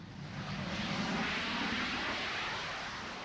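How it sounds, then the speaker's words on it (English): Steady roar of a Harrier jump jet at the 1976 Farnborough Air Show, loud and broadband throughout, a continuous rushing engine noise with no voices. "The Harrier, vertical takeoff and landing attack fighter."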